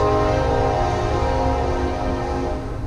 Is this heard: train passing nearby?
yes